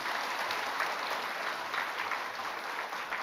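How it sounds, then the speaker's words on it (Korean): A church congregation claps together during a sermon, steady, dense applause sustained throughout without a break. "우리 박수 한번 하십시다."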